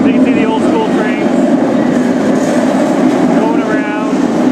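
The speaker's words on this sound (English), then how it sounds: "So you can see the old school trains" Old-style roller coaster trains run along the track at an amusement park, a steady rumbling clatter with rhythmic clicking and faint squeals under a continuous crowd-like wash of background noise.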